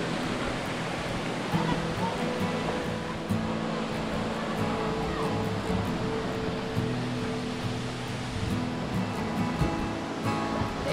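Tizi Nberber waterfalls near Béjaïa, Algeria, give a dense, unbroken roar of falling water, steady and close, with no voices over it.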